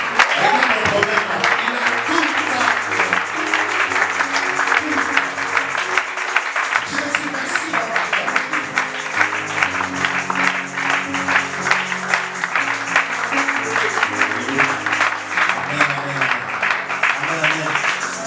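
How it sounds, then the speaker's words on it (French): A church congregation applauds to acclaim Jesus, a dense continuous roar of clapping from many hands that holds steady and loud, with a voice and sustained musical tones underneath. "Je voudrais qu'on acclame le maître parce qu'il a tout accompli."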